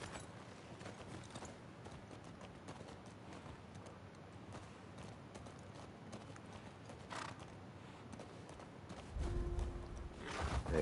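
Horse hooves clip-clopping in The Last of Us Part II, a post-apocalyptic video game: a steady quiet trot under ambient game sound, with a louder low rumble toward the end.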